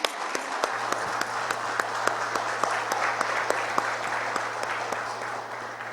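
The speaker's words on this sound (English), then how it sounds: "And a huge round of applause once again." Audience applause at a cricket talk event, a dense steady wash of many hands clapping throughout, fairly loud, with a faint low steady hum underneath and no talking.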